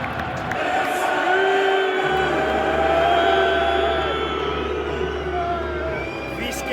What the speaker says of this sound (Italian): Entrano in campo le squadre per gli applausi dell'Etihad.